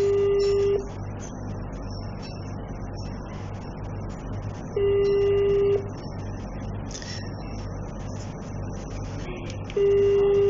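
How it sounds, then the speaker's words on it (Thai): An outgoing call placed through an SL2100 phone system rings back in regular repeating tones, each ring about a second long followed by a few seconds of gap, clear and prominent over a steady background hum. "ตอนนี้ก็โทรไปแล้วนะครับเดี๋ยวเราจะลองรับสาย"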